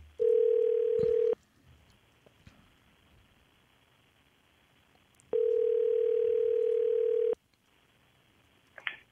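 A telephone line rings out during a call-in radio show: two long, steady electronic ringback tones a few seconds apart, with near silence between them.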